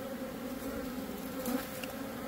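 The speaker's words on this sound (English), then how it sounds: "They have another hive right in that wall space." A dense swarm of honey bees in a hive inside a house wall hums steadily at close range, a continuous buzzing drone with no voices.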